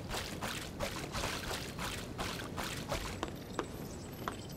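Gentle water in the game Trine 3: The Artifacts of Power sloshes and trickles faintly, with soft, regular splashing pulses and a few sharper drips near the end.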